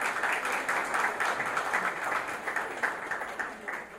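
Audience applauding staff at an entertainment-industry event in Trinidad and Tobago, a steady dense round of clapping held for several seconds with no voice over it.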